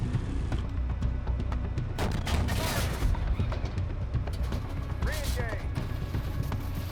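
A T-72B3 tank firing HE rounds in a tank simulation game: a few heavy, booming shots cut through a steady, loud engine rumble, while someone talks over it.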